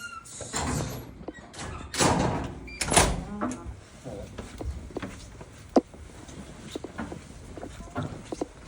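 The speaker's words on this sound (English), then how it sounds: "That door needs to close before this one can open." A security door at Islington Police Station slides shut with a few clunks and thuds, set among footsteps, squeaks and echoing indoor room noise.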